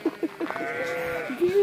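Sheep bleat in hilly countryside with cows, goats and alpacas nearby, a few short close calls followed by a longer drawn-out bleat.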